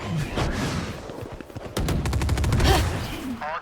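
Rapid bursts of gunfire in the tactical shooter Valorant, loud and close, with dense rattling volleys in the second half and a voice briefly heard among the shots.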